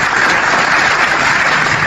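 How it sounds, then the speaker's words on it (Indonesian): Steady dense clapping, like a small group applauding at a debate, holds at an even level for about two seconds against a faint background hiss. "Saya harus tepuk tangan dulu"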